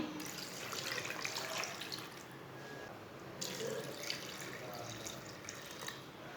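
Water pours and splashes steadily into a cooking pot of mutton, a soft continuous gurgle with slight shifts in flow, fairly quiet and close.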